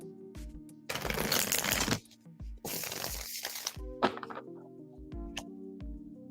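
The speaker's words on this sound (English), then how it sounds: "I am shuffling for you now, Jasmine." Tarot cards are shuffled in several close, crisp bursts of riffling and flicking, separated by short pauses with soft taps and card handling.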